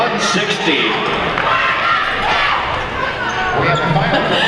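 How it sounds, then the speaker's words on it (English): Lava City Cinder Kittens roller derby team chanting at a bout against the Kitsap Derby Brats; voices in unison ring through an echoing arena over crowd noise and skating rumble. "A little chant there by the Cinder Kittens that they are number 2"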